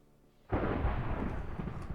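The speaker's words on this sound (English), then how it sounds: "Oh, a thunderstorm." Thunder booms in a Minecraft thunderstorm over open water, a sudden loud crack after a near-silent moment that rolls on as a sustained low rumble.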